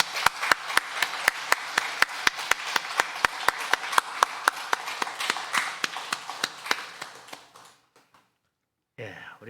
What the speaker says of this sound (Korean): 우리도 힘찬 박수로 하나님 앞에 영광 돌리겠습니다